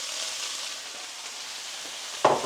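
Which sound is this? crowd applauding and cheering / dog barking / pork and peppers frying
pork and peppers frying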